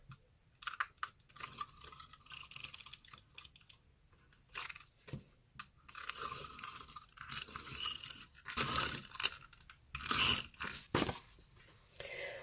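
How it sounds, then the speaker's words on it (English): Double-sided sticky tape peeled and pressed onto a handmade Disney card envelope, giving crisp tearing and crinkling bursts near the mic, several sharp rips clustered toward the end with quieter rustling between. "Only on the top that I'm going to apply the sticky tape."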